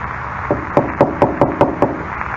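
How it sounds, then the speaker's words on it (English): Six sharp knocks rap on a door in a close, evenly spaced series over a steady background hum. "He knocked at the door and then skipped off down the corridor"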